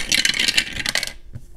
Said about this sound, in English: I'm gonna roll the dice and see which one we're gonna scratch off today.